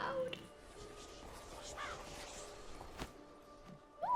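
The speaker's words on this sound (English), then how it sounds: "What is that, a raven?" Raven in the Witcher 3 video game giving a few harsh caws over a quiet ambient background, fairly faint and spaced out.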